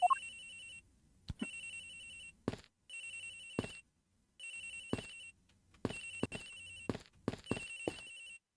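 Agent Hicks's phone rings in the video game Ace Attorney Investigations, a repeated electronic ringtone in short bursts separated by gaps, mixed with clicks and game sound effects.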